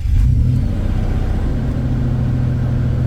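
A Nissan Xterra with a camshaft position sensor fault fires up and runs loud and close, its low engine rumble swelling at the start and then holding steady.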